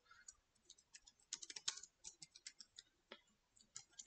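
Quick, light keystrokes on a computer keyboard as someone types a short phrase, tapping in an irregular rhythm with a brief flurry in the middle, close and quiet with no voices.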